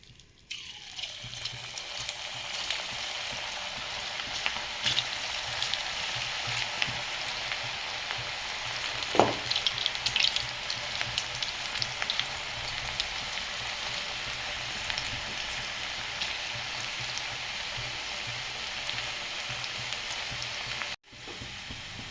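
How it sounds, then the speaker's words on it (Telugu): Cabbage pakoda fritters deep-fry in hot oil in a kadai, giving a continuous bubbling sizzle at moderate level with a few faint clinks and splashes along the way. "ఇప్పుడు దీన్ని ఆయిల్లో వేసుకుందాం."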